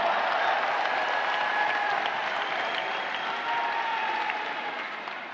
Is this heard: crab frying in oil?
no